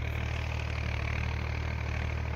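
Tractor engine pulling a Lemken Opal 90 plough deep through a field, a steady loud droning rumble, even and unbroken, with no speech over it.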